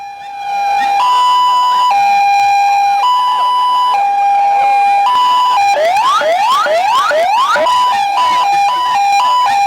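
An ambulance siren sounds loud and close, switching between steady two-tone blasts and a run of rising whoops, then returning to the alternating tones.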